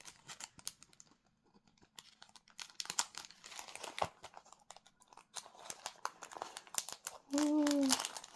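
Faint, close crinkling and rustling of plastic packaging being worked open around a cross-stitch thread skein gift, irregular small crackles, ending in a brief breathy blow near the end.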